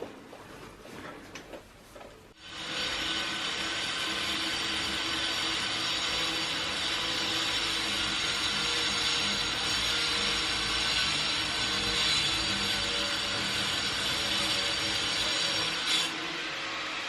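A cutting machine slices stone for a home garden, starting up after a few quiet seconds and then holding a loud, continuous grinding roar to the end.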